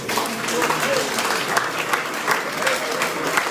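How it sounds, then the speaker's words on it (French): A church congregation applauds at a Sunday service, steady loud clapping filling the room throughout with crowd noise mixed in. "Est-ce que l'Église peut l'acclamer ce matin?"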